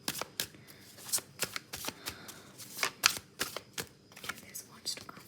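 Tarot cards being shuffled and handled during a reading, a run of crisp riffling snaps and slaps at an uneven pace, close by, with faint breathy talk underneath.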